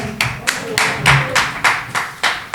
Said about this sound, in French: On va applaudir, s'il vous plaît